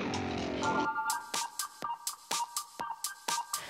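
A phone chimes a message notification, a short tonal ping followed by a run of evenly spaced clicks or taps, near and clear after a brief burst of background sound.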